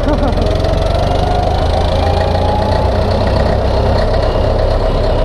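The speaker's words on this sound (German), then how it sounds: "Es macht auf jeden Fall Spaß, mit so einem alten Traktor zu fahren." An old Hanomag R460 tractor engine chugs steadily with a low, rhythmic knocking throb, loud and close, running continuously.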